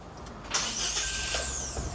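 An offroad 4x4 mini camper van's engine cranks and catches about halfway through, a loud close start that settles into a steady running rumble.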